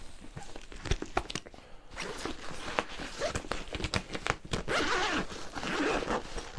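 A zipper on a Braca Sport backpack is pulled open in quick, close, rasping strokes, with soft rustling and handling of the fabric between pulls.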